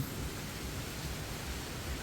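Strong wind blowing through a mango tree strong enough to knock the fruit down, a steady loud rushing roar with low gusty buffeting throughout.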